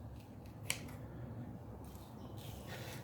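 A single sharp snip of scissors cutting up squid for fishing bait, one brief crisp click standing out over a steady low background hum.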